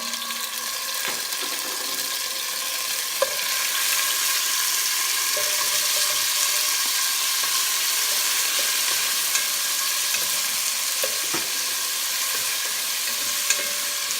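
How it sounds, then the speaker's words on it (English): Onions and garlic sauteing in a little oil for pork sinigang, a steady hissing sizzle with occasional stirring clicks and scrapes throughout, fairly even in level, with no voices. "We'll just saute the onions."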